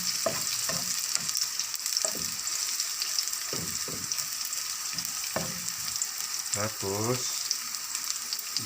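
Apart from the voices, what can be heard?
onions frying in a pan for pancit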